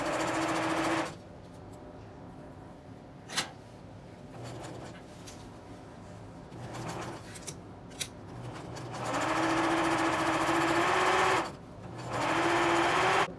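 A sewing machine stitches a jumpsuit cuff in short runs, a steady humming whir that starts and stops, with quiet handling noises and soft clicks between the bursts.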